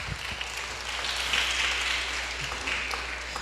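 A church congregation applauds during a sermon, a dense, fairly soft wash of clapping that holds steady throughout with no talk over it.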